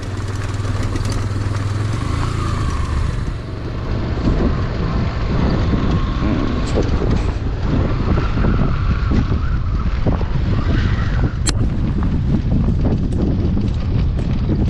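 Strong wind roars steadily across an Upper Mustang mountain road in Nepal, a loud, continuous buffeting rush with low rumble throughout.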